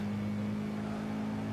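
Car engine from the Gran Turismo 5 racing game, a Trueno, holding a steady loud drone with a strong constant tone, alone without talk.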